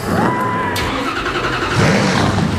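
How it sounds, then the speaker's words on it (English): Stock car race engines fire up together at the 2008 Full Throttle Energy Drink 200: a loud, dense roar of starting and revving motors that fills the whole stretch, with a faint voice underneath. "Gentlemen, start your engines."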